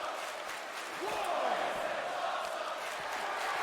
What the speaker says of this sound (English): Crowd shouting, this is awesome